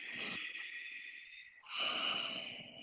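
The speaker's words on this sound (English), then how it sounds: "5 breaths, Ujjayi breath" Steady Ujjayi breaths during a power yoga class: a long hissing exhale, a short pause, then another audible ocean-like breath. Both are close and fairly loud, with no talking.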